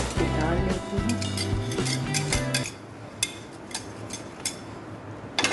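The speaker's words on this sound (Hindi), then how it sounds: "पहले मैं इकट्ठे सारे बर्तनों को इस तरीके से देखें अच्छे से निकाल लेती हूँ।" Dishes, pots and cutlery are taken out and handled in a home kitchen. Clinks and clatter ring out close by, busiest in the first half and then coming as sparser single knocks.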